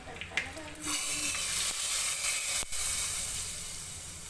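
Garlic and asafoetida hitting hot oil to temper dal, a steady hissing sizzle that rises suddenly and then fades slowly, heard close up with no talking.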